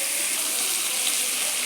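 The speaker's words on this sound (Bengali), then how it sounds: "সেই আলুটা অ্যাড করে দিলাম।" Fried potatoes going into a hot pan of spiced masala, giving a dense, loud, continuous hiss of sizzling with no breaks.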